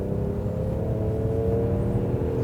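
A 2003 Toyota Crown Athlete V with a 1JZ straight-six accelerating hard, its engine note rising in a steady, loud drone heard from inside the car.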